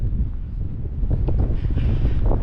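Gusty wind buffets the microphone with a constant low rumble, rising and falling in strength throughout.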